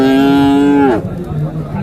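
A Friesian cross calf, about seven months old, at a cattle market lets out one loud, close, drawn-out moo that breaks off abruptly partway through, leaving market background noise.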